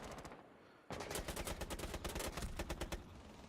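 Rapid gunfire in a video game match, a burst of sharp, repeated shots in quick succession that follows a softer opening and fades slightly at the end, with no talk over it.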